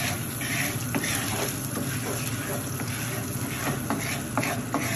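Popcorn kernels are stirred with Flavacol seasoning in a frypan, giving a busy rattling, scraping shuffle that runs steadily throughout with small clicks and no talking.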